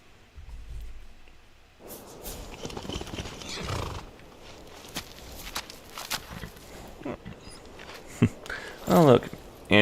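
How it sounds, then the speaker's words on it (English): A horse in the video game Skyrim clops along on its hooves and neighs loudly near the end, over game ambience and other rustling. "Oh look, Angie's horse."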